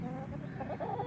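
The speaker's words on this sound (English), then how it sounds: "a little pen for her chickens, and looks like she's got 4 hens" Four young hens cluck softly and continuously in a small pen, a faint low murmur of fowl chatter with no voices.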